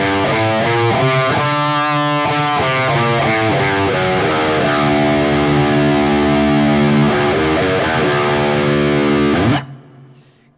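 A heavily distorted electric guitar plays a Middle Eastern scale across one octave, loud and close. The notes step steadily upward and then back down, and the last one rings out briefly before cutting off.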